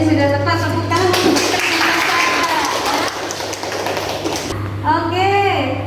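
Classroom students clap together for a group presentation, a dense, lively round of applause lasting several seconds, with a teacher speaking just before and after and children's voices mixed in under a low electrical hum.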